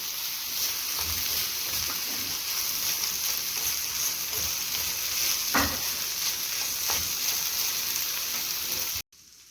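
Ladyfinger and egg roast fries in a pan with a constant dense sizzle, broken by occasional soft scrapes and knocks as it is stirred and mixed, close and steady throughout before cutting off at the end.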